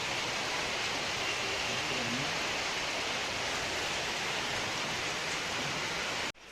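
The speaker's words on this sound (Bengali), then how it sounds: "দেখো কি জোর বৃষ্টি নেমেছে" Dense, steady downpour roars evenly throughout, broad and unbroken, before stopping abruptly at the very end.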